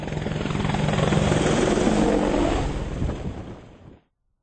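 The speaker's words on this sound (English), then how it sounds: "Sergeant Mark Maitland flies a Lynx, the Army's utility helicopter." British Army Lynx utility helicopter flying in Helmand Province, Afghanistan, a loud, close, steady rotor beat and turbine whine that holds for about four seconds then cuts off abruptly, with no talk.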